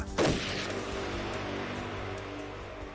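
A bomb goes off against a tower wall in a documentary sound effect: a sharp, loud blast at the start, followed by a long rumbling, crackling tail of debris that slowly settles.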